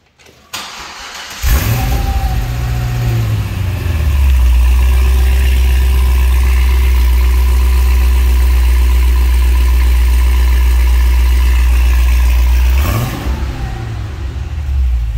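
A supercharged 2013 Cadillac CTS-V wagon engine, six-speed manual, cold-starts: it cranks and fires up with a loud roar, settles into a deep, rumbling idle, then revs again near the end.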